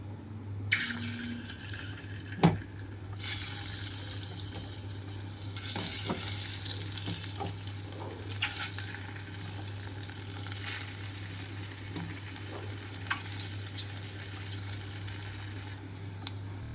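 Halved boiled eggs fry in a pan for egg curry, a faint steady sizzle under a low hum with occasional clinks and small scrapes, no talking.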